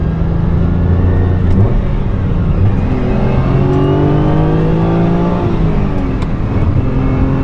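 A 1972 Ferrari 246 GT Dino sports car engine drones loudly and steadily while driving, with rising and falling rev tones as it shifts through gears.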